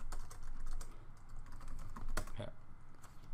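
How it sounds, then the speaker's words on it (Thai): A password is typed into a computer terminal on a keyboard: a quick, irregular series of close key clicks and taps, with one sharper keystroke near the end and no talking. "พิมพ์คำสั่ง password ครับ"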